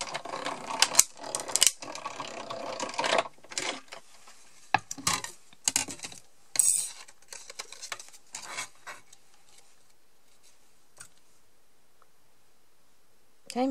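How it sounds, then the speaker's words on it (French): Manual die-cutting embossing machine being cranked to pass a paper die through, a series of close ratcheting clicks and mechanical knocks in bursts that thin out to quiet. "Je place mon die. Voilà. Et je vais le passer dans la machine."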